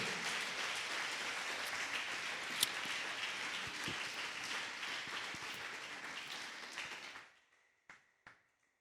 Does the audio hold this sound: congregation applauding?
yes